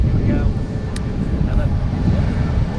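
A Singapore Airlines airliner on its takeoff roll at Manchester Airport, heard as a steady broad engine roar from a distance under wind noise, with people talking over it.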